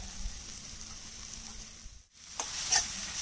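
Masala for quail eggs sizzles softly in a pan, a quiet steady frying hiss that briefly drops out and then returns louder with a few stirring scrapes.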